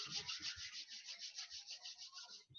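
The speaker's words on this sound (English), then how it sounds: "Slowly rub your hands." Palms rub together slowly at the close of a yoga meditation session, a soft steady swishing that pulses in an even back-and-forth rhythm, close and quiet, with no talking.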